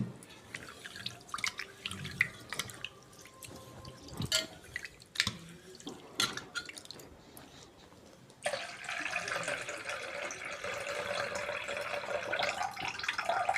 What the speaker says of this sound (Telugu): ఏ రకం మిలెట్స్ అయినా సరే శుభ్రంగా కడుక్కోవాలండి. త్రీ టైమ్స్ కడుక్కుంటే నీట్గా ఉంటాయి అన్నమాట.